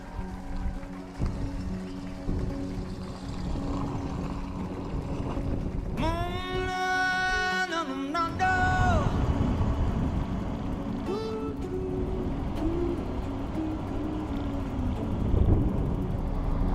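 A 1969 Kaiser Jeep Wagoneer drives along with a steady low engine drone and road rumble, gear changes rising and falling in pitch midway, wind noise around the cabin.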